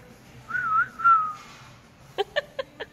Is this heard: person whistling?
yes